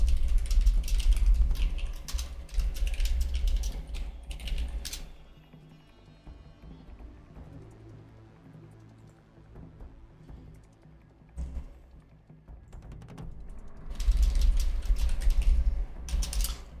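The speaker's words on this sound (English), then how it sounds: "Sorry for the typing noise. I can't really stop that." Computer keyboard keys clatter in quick, uneven bursts close to the microphone during a Horizon Forbidden West gaming session, loud at the start and end and quieter through the middle stretch.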